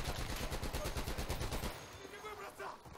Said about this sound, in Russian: Берегись, пулемет!